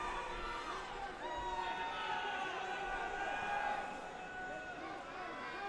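A crowd at an MMA fight in Independence, Missouri, murmuring uneasily during a grappling exchange: a steady, fairly distant wash of many voices with faint swells, and no single voice standing out.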